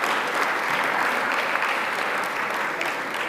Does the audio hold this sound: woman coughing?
no